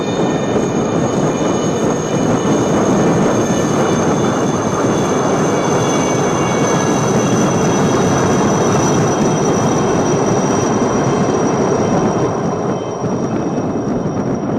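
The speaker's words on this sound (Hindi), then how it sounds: "Coming up next are 6 Chetak helicopters from the 3-1 flight in a diamond formation." Six Chetak helicopters fly past in diamond formation at a naval fleet review, a loud, continuous broadband rotor and engine roar that stays steady throughout with no talk.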